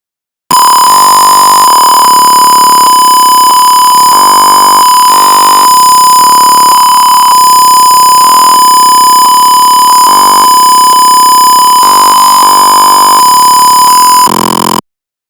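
A buzzer on an IoT temperature sensor circuit sounds one loud, steady electronic tone that holds unbroken for about fourteen seconds, with no voices.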